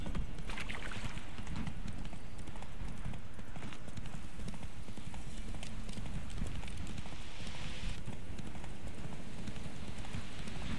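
Horse hooves clip-clop in a steady rhythm while riding in the video game Witcher 3, with a continuous dense rumble and no talk over it.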